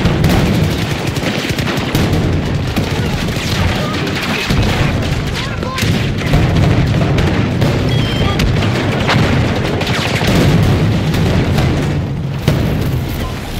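Continuous loud combat in Battlefield 2042: booming explosions mixed with bursts of automatic gunfire throughout, with voices talking over the noise.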